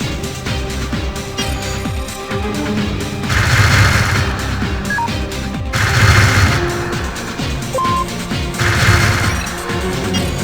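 Rapid bursts of Starlancer spaceship blaster fire repeat in three surges over a steady, busy game soundscape, with no voices.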